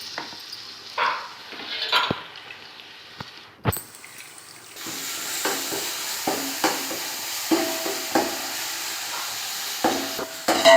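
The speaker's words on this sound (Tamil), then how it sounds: "அடி பிடிக்காமல் கிண்டி விட்டுகிட்டே இருக்கணும்" Ginger-garlic masala for chicken biryani is stirred in a pot with scraping and knocking strokes against the metal, quiet at first, then under a louder steady sizzle that continues with repeated rhythmic stir sounds.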